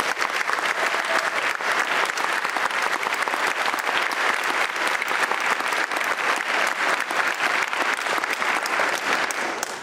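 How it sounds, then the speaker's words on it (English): A crowd applauds Eagle Scouts at a Boy Scouts National Court of Honor ceremony, with loud, sustained, even clapping from many hands continuing throughout without pause. "So let's give them a round of applause"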